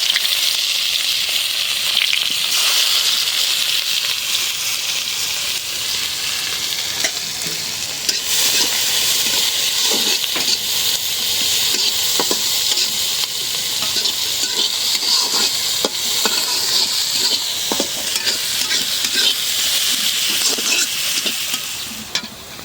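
Onions frying in hot oil, a loud, constant sizzle running throughout, dotted with light scraping and tapping as a utensil stirs them, no voices.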